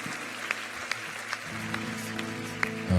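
Congregation applauding in church, a moderate run of clapping with a few sharper claps standing out, over low sustained instrumental tones.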